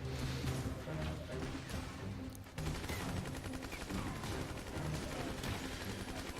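Machine gun squads in the real-time strategy game Command & Conquer: Rivals fire continuous rattling bursts, dense and steady throughout, with scattered impact cracks layered into a busy battle mix.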